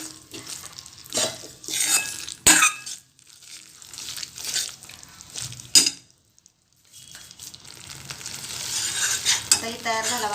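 Masala for fried modak is roasted and stirred in a pan, bursts of scraping and sizzling broken by loud knocks, a near-silent pause, then continuous frying noise.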